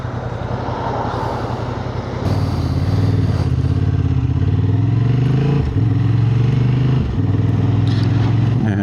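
A Honda Hornet 750 motorcycle engine drones loud and close while riding, its pitch climbing through the gears, with short dips at each upshift and no talk over it.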